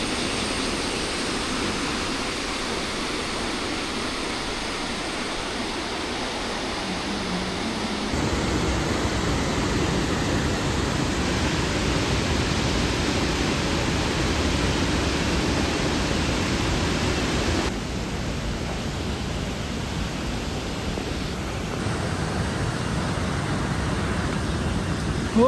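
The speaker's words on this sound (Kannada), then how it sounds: "ಇದೇ ನೋಡಿ ಫಾಲ್ಸು, ಅಲ್ಲಿ ಬೀಳ್ತಾ ಇದೆಯಲ್ಲ" Mallalli Falls in Coorg during the monsoon roars as a broad, steady rush of falling water, loud and continuous, with shifts in level as the listening position changes.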